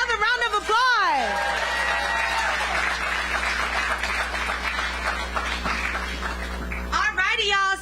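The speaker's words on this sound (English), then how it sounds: "Another round of applause." Sustained applause mixed with whoops and cheering from a campaign rally crowd at Georgia Tech, loud and steady throughout, over a faint electrical hum.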